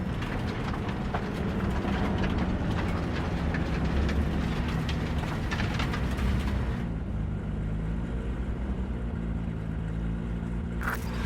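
A large train in Cyberpunk 2077 rumbles steadily with a loud, continuous low roar and rattling, then the noise thins to a quieter hum for the last few seconds.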